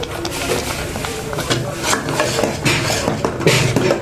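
Kitchen utensils and vessels are washed by hand at home, giving continuous clattering, rubbing and clinking of metal dishes with water, fairly close and steady.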